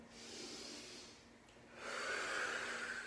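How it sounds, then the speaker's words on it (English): Breathing during a morning core mobility exercise: a soft airy exhale, then a brief pause and a longer, stronger inhale, close and fairly quiet, with no talk. "Breathing in as you come up."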